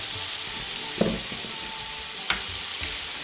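Carrots browning in oil in a frying pan, a steady soft sizzle throughout with a couple of sharp stirring clicks from a utensil against the pan, close and moderately loud, no talking.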